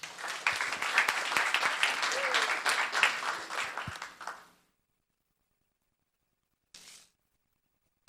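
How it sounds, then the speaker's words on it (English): Applause at a Los Gatos town council meeting, dense clapping from the room for about four and a half seconds before fading to silence, with a brief faint burst later. "Let's have a hand for Ria"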